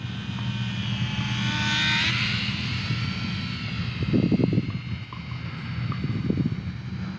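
An Eachine Spitfire 400mm micro warbird RC plane takes off in light breeze, its small electric motor buzzing steadily and shifting pitch as it climbs away, with soft gusty rumbles of wind near the ground.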